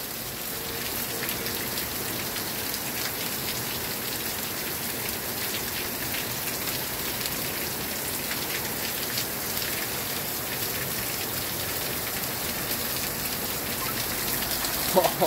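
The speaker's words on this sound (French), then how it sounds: "Oh, c'est le déluge, hein." Heavy rain pours down in a violent August thunderstorm in Saint-Ambroix, Gard, a dense, steady hiss of drops drumming on surfaces throughout, with a few faint voices beneath.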